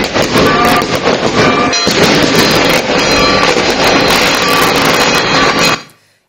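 Easter night fireworks over Lamia, Greece: a dense, continuous barrage of loud crackling bursts and booms runs for about six seconds, then cuts off abruptly into silence.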